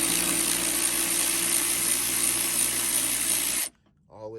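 A battery-powered ratchet loosens a bolt on a Range Rover HSE during a fuel pump replacement, whirring loudly and steadily at close range for several seconds before cutting off, followed by a voice.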